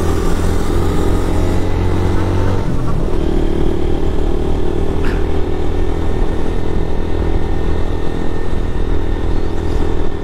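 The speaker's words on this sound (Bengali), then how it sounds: "একটা রোড দিয়ে যদি 12টা বাইক যায়" A group of about twelve motorbikes rides together along a hill road in the evening, their engines making a loud, steady drone that rises and falls slightly as the bikes pass close by.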